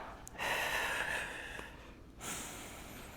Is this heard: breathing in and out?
yes